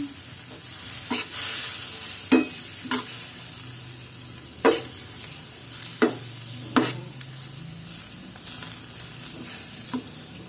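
Filipino pork adobo with soy sauce stirred in a pan, a soft background simmer broken by about eight sharp clacks of a utensil against the pan at uneven intervals, close and fairly quiet, without talk.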